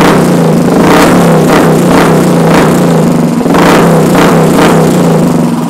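A Royal Enfield motorcycle with a modified exhaust revs loudly and steadily, throaty exhaust rising in repeated swells over a deep continuous rumble.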